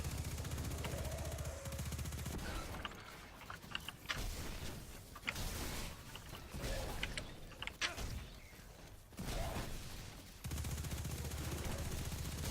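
Automatic SMG fire in the sci-fi shooter Destiny 2, long sustained bursts of rapid shots with brief pauses between volleys, steady and fairly close.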